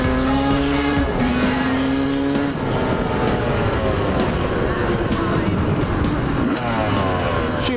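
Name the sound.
Yamaha motorcycle engine revving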